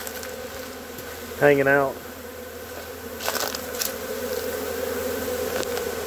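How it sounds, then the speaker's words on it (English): Bees from a swarm buzzing close by outdoors, a short loud buzzing burst early, then fainter scattered buzzing over low background noise, with a brief spoken phrase. "So many bees."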